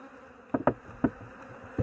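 Close, dense buzzing of honeybees at an open hive packed with four full frames, a steady droning hum broken by a few soft knocks.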